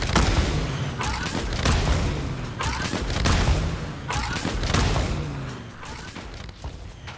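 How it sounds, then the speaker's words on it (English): Gunfire in Fortnite, repeated bursts of booming shots in quick clusters, fairly loud and continuing throughout with short gaps between volleys. "There's gunfire coming from where we just were."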